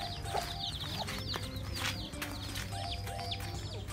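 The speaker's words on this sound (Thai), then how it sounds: "ไก่กุ๊กๆเหรอ" Several chickens cluck near a neighbour's house, a busy run of short clucks and calls over steady outdoor background noise, continuous and moderately close, with no talking.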